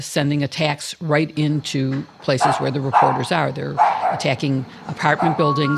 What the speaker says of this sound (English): That's not my dog. Yeah, sorry, I apologize. That's my dog.